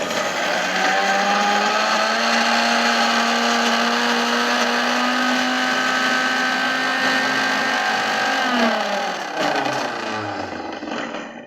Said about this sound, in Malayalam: ഒരു ടീസ്പൂണ് ജീരകം. ഇത് അരച്ചെടുക്കാം. നമുക്കിത് അരച്ചെടുക്കാം.